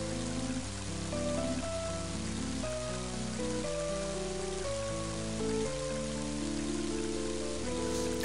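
Rain falls in the Mother 3 video game during a forest fire, a steady soft hiss running beneath continuous melodic game music throughout.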